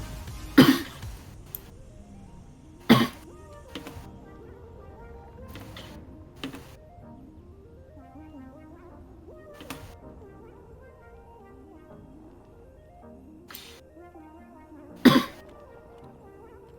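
A man coughs a few times, sharp, loud single bursts spaced several seconds apart, close to the microphone, over a quiet background with faint mechanical ticking and electronic tones.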